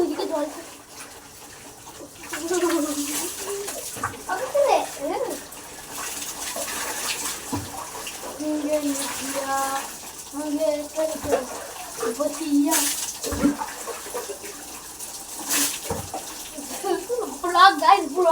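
Tap water splashes and runs into a basin, with a voice talking over it and the flow rising and falling, close by.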